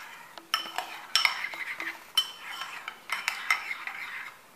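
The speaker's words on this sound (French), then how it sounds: "Voilà, on mélange le tout." Stirring salad dressing for a chicken and Granny Smith apple salad in a bowl, with a utensil clinking and scraping against the bowl in irregular bursts, close and fairly quiet.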